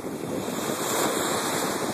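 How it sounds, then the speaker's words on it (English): Steady surf breaks close by on Lamai Beach, Koh Samui, an unbroken wash of water with wind buffeting the microphone, and no voices. "That's the sound of the ocean at my feet."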